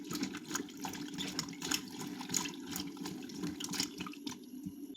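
Bitter gourd pieces are washed in water, with soft sloshing, splashing and running-water sounds continuing close by and quietly for several seconds.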